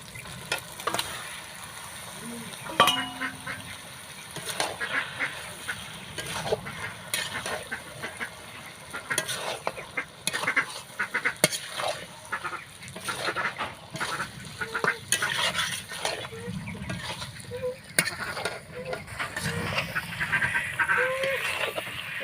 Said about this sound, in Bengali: এবার আমি মাংসগুলো কিন্তু দিয়ে দিচ্ছি।